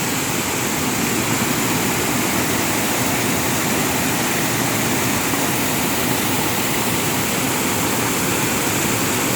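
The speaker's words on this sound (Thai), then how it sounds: "ตามเสียงของน้ำตก" A rain-swollen forest waterfall roars in an unbroken, loud wash of rushing water that holds steady throughout with no voices.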